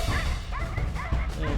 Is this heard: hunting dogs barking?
yes